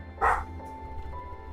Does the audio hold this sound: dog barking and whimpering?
yes